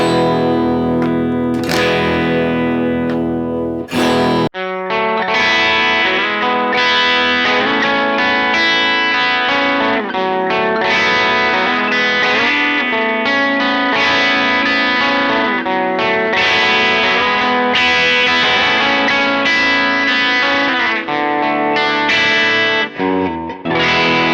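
Gibson Blood Moon electric guitar played through effects pedals gives a dense, distorted, chorused tone, with a few ringing strums, then continuous driving riffs and chords for over twenty seconds, loud and sustained with reverb.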